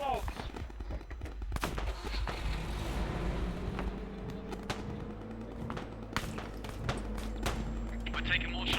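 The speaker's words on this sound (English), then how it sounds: "We're taking more shots from the southwest down the street." Gunshots in a military video game firefight on a street, with scattered sharp cracks from near and far over a low engine rumble and background noise.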